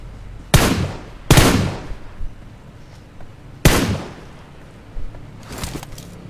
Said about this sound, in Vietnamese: Tôi vừa nghe thì tiếng súng